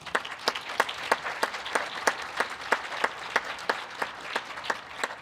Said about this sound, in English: It lets me give everyone a big round of applause for that,